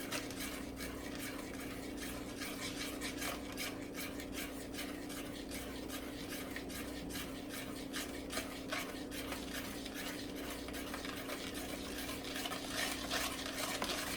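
Steady gritty scraping and rubbing as a spoon stirs a thick homemade laundry soap mixture in a pot, continuous and close, with a low hum underneath.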